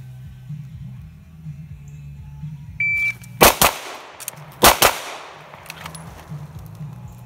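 Pistol shots during shooting practice: two sharp close shots, a short pause for a reload, then two more shots, over a low steady hum and a brief beep.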